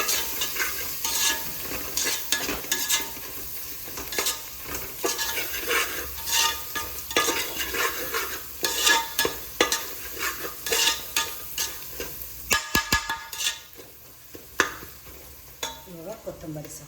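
Mint leaves stirred and frying in a hot pan for a palak soya pulao, a steady sizzle with repeated scraping strokes of a spoon against the pan, close and continuous with no talking.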